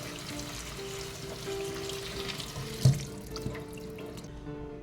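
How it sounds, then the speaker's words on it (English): Tap water running into a big bowl in a kitchen sink while it is rinsed out, a steady close splashing rush with a soft clunk of the bowl midway, no voices. "you also want to re-rinse your big bowl you used before"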